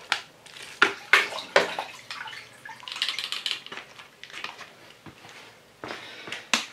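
Splashy water sounds from a spod rocket loaded with hemp, birdseed and tiger nut bait mix, a series of close sharp plops and sloshes in an irregular rhythm with no talk.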